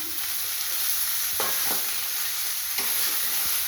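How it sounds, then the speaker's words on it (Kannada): Onions frying together with bitter gourd in a pan give a steady, loud sizzle, with a few scraping stirs cutting through near the start and middle, and no one speaking. "ಈರುಳ್ಳಿ ಹಾಗಲಕಾಯಿ ಜೊತೆಗೇ ಈರುಳ್ಳಿ ಫ್ರೈ ಆಗುತ್ತೆ"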